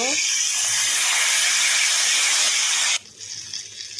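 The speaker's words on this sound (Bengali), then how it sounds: "ঝোলের জন্য জল দিয়ে দেওয়া হলো।" Loud, steady hiss of water poured into a hot pan of spiced potatoes cooked with green chili, ginger and cumin-coriander paste, cutting off abruptly after about three seconds and leaving a quieter simmer.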